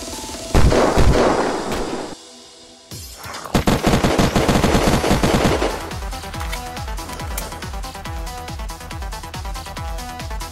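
Heavy gunfire from the video game Unturned, with loud sharp shots that crack in quick succession. A short quiet gap is followed by another dense volley that fades into echoing, tailing reports.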